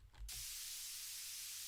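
Steady broadband hiss starts abruptly after a brief low thump and continues evenly, loud and unbroken, like static white noise.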